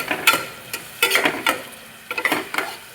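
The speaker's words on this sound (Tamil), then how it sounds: "பூண்டு இஞ்சி வரமிளகா கருவேப்பிலை இதெல்லாம் போட்டு கொஞ்சம் வதக்கலாம்" Garlic, ginger, dried chili and curry leaves sauté in a pan. Bursts of spoon scraping and clinking come in short irregular clusters over a soft background sizzle.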